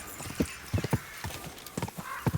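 Rapid rhythmic hoofbeats of a galloping horse in the video game Kingdom Come: Deliverance II, moderately close and steady, with no voices.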